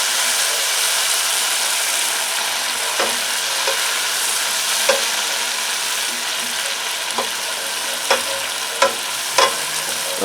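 Spice mix sizzling and frying in a hot pan for Indian mutter paneer, a steady bright hiss broken by a few sharp pops and stirring clicks, close and loud with no talk.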